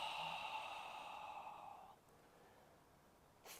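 A long, breathy exhale during a yoga stretch, soft and close, fading out after about two seconds over quiet room hiss.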